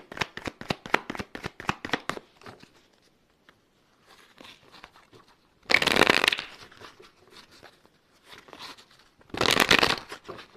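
A tarot deck is riffled rapidly at close range, a dense burst of crisp card flutters followed by softer handling and two louder shuffling swooshes.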